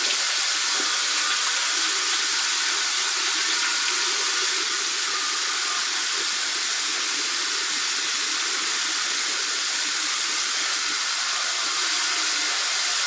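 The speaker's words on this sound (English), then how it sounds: "Just gonna pump it into my hand, add some water to it, and go at it." Water runs steadily from a tap into a sink while the face is washed with a pumped cleanser, a continuous close hiss with no talking.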